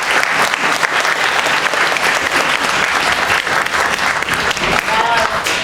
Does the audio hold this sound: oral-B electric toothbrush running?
no